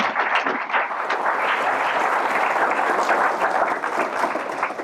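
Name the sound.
audience applause for keynote speaker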